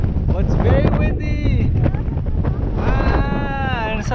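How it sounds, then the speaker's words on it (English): Strong wind buffets the microphone while riding a BMX in traffic, a loud low rumble with a voice talking over it. "Oh, it's very windy."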